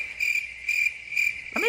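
A person's vocal imitation of crickets: three steady, evenly spaced bursts of high-pitched chirping, close and clear, followed by a brief rising vocal sound at the end.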